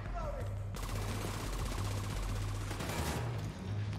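Gunfire in The Division 2 as an enemy is shot: a continuous rapid stream of loud automatic shots lasting a few seconds, then easing off near the end.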